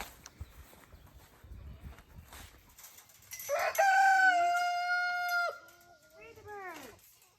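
A rooster crows loudly and nearby on a farm, one long drawn-out call followed by a shorter falling one, after soft clucking and scuffling in the barnyard.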